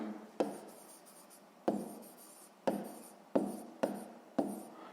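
A digit is written by hand, likely chalk or pen, in a maths lesson: five or six scratchy strokes, each starting with a crisp tap and fading, close and alone.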